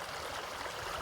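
Water rushes in an unbroken hiss and wash where a flashy stream crosses a hiking trail, a short, even stretch of moderate flowing sound with no talking.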